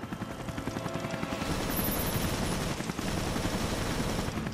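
Rapid gunfire in the Resident Evil Revelations game, a dense stream of quick shots fired in continuous bursts, loud and steady with a short break near the end.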